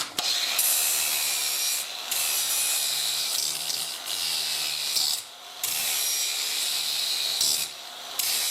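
Edges of fender riser brackets for a Honda Africa Twin CRF1000L are rounded over by hand with a file, making close, raspy scraping strokes in long runs broken by brief pauses.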